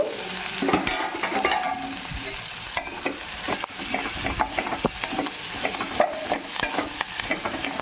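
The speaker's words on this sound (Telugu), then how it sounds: "అది కూడా మంచిగా ఫ్రై చేసుకుందాం" A handful of coriander leaves fry and sizzle in a hot pan for ridged gourd chutney, with steady crackling and repeated scraping stirs of a spatula up close, no talking.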